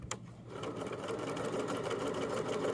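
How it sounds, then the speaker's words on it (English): A sewing machine stitches elastic for joggers, whirring in a steady, continuous close run after a brief start, loud and alone with no talk. "I'm going to backstitch, and then I have my square and X sewed in there."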